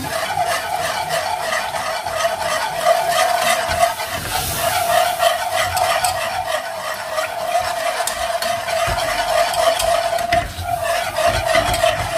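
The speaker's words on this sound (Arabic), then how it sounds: "ሕጂ ፀባና በብቁሩብ እንዳንጠብና ከነኽሶ ኢና" Vegan lasagna sauce stirred steadily in a hot pan while milk is added little by little, a continuous close scraping swirl over a soft sizzle, with no speech.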